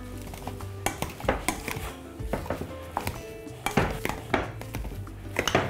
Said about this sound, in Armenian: շարունակում ենք տրորել